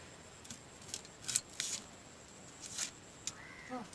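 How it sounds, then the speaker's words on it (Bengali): A knife cuts through the tough core of a shredded cabbage, giving a few short, crisp crunches spread unevenly across the moment, fairly quiet and close, with no talking. "বাঁধাকপিটা কিন্তু খুব ভালো করে আমি কুচিয়ে নিয়েছি কিন্তু প্যাঁচটাও আমি কেটে নেবো"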